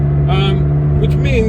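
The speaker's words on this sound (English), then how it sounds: "a track car basically set up for the road, which means that it's quite noisy and it's quite bumpy as well" McLaren 620R supercar, a loud track-focused car set up for the road, droning steadily from inside with a constant engine note and a brief pitch rise, heard under someone talking.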